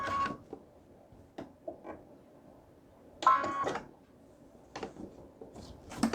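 A sewing machine stitches while its wheel is turned by hand, giving scattered soft mechanical clicks and taps. A louder whirring clatter comes in the middle, all close and fairly quiet against near silence.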